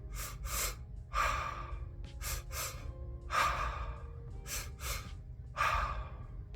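Slow, audible breaths drawn in and let out in a calming rhythm, about five broad breathy bursts with short gaps between them, close and clear over a low steady hum, with no talking.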